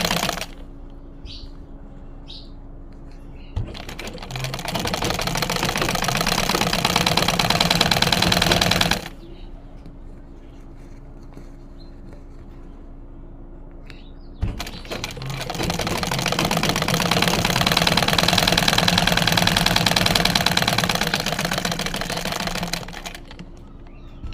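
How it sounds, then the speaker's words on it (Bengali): A sewing machine stitches the front neckline placket of a kameez in two sustained bursts of fast, whirring needle clatter, separated by a quieter pause with faint handling sounds. "সেলাইটা যেন ভিতরে থাকে সেটাই খেয়াল করে আমাদেরকে সেলাই দিতে হবে"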